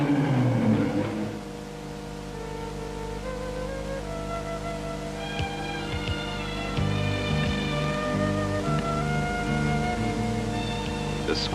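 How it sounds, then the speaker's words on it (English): A Lancia Stratos rally car of the 1973 Sanremo Rally runs through Siena's paved streets, a loud burst at first settling into a steady, droning exhaust note that echoes. "The normally quiet paved streets echo to the sound of exhausts."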